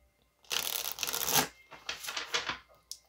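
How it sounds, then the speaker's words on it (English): A deck of tarot cards is shuffled up close, a loud riffling flutter followed by several shorter rustling bursts and a final quick snap. "Let's go ahead and get a card here from this deck"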